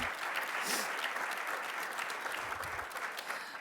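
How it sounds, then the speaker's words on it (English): Audience applause fills a room at Gallaudet University during a mayoral accountability report event, a steady dense clapping that stays loud and continuous throughout. "give yourselves a round of applause"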